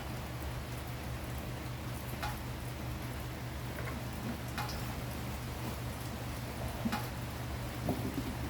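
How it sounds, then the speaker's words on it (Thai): Rain falls steadily as a continuous low hiss, with occasional faint drips and taps on a surface and no voices, calm and even throughout. "ฟังเสียงฝนไปด้วยนะจ๊ะเพื่อนๆ"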